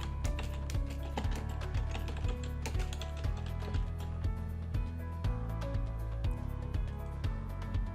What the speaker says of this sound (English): You can start typing in the document normally.